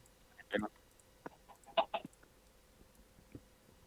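A few soft, short clucks from a chicken in a one-block Skyblock video game pop up against a quiet background, spaced out and faint.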